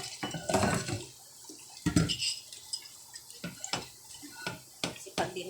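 Dishes clatter and clink under running tap water while being washed in a sink, with scattered close knocks of plates and cutlery and someone speaking at times.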